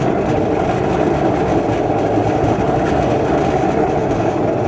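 Two diesel locomotives working together to push through snow banks give a loud, steady low rumble that runs continuously without a break.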